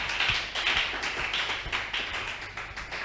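A church congregation applauding together, a dense, sustained wash of many clapping hands at moderate distance, rhythmic and continuous throughout.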